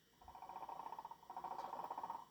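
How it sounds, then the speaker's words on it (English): A soft, rapid warbling chirp repeats in a steady pulsing trill, like a small bird call effect, faint and alone, played by a 1992 Microsoft Windows Sound System. "Okay, that's a bird."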